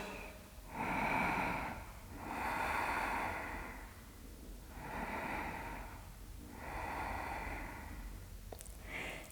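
Slow, deep breaths during a seated yoga twist, heard up close as four long airy inhale-and-exhale swells with short pauses between, steady and unhurried, with no talking.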